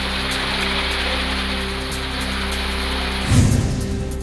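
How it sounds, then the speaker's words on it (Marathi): Heavy unseasonal rain with hail falling on a farming area, a dense, steady hiss that holds level throughout, with a louder burst of drumming near the end. "अवकाळी पाऊस आणि गारांची जोरदार हजेरी"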